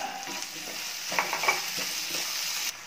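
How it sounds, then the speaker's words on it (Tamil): Chopped tomatoes with salt sauté alongside adamant creeper (pirandai) in a pan for a Tamil gravy, giving a steady close sizzle broken by a few sharp stirring scrapes and clicks, with no talk. "இப்போ தக்காளி நல்லா வதங்கிடுச்சுங்க."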